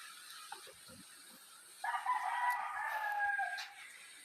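A rooster crows loudly for a couple of seconds, preceded by a few quiet clucks from chickens in an otherwise calm outdoor setting.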